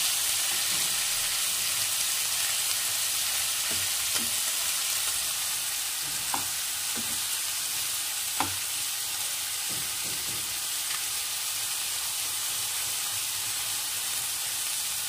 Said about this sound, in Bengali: এর মধ্যে দিয়ে ভালো করে ভেজে নেব। এখন খুন্তির সাহায্যে এভাবে দিয়ে দিতে হবে।